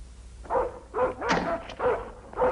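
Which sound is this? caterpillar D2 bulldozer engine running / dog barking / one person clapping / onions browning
dog barking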